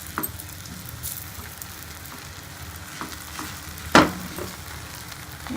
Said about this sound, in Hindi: थोड़ा सा घी हम तवे के ऊपर लगाएंगे। हमने पराठे को हम तवे पे डाल देंगे।